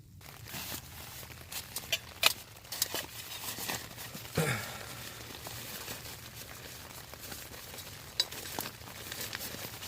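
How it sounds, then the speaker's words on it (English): Light rain pattering on a tarp tent at a campsite in sleet and freezing rain, a soft steady patter with scattered sharper drips and taps, fairly quiet and close. "Well, it's still raining."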